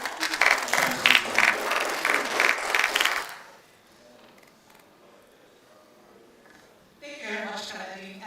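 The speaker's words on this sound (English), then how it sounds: "Thank you so much for the applause." An audience at a conference of Nigerian tertiary-institution ICT directors applauds loudly for about three seconds, then the room falls quiet before a voice begins speaking.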